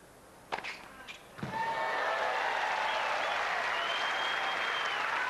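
A tennis crowd breaks into sustained loud applause with cheering after a few sharp thuds, the clapping holding steady to the end.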